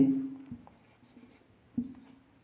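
A pen scratches across a surface in a classroom during a maths lesson, giving two short, quiet strokes in a hushed room with no talking.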